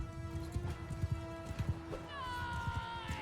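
Horses of horse archers in the video game Mount and Blade II: Bannerlord, with repeated hoofbeat clip-clops in an uneven galloping rhythm and a whinny near the end, heard under steady game background noise.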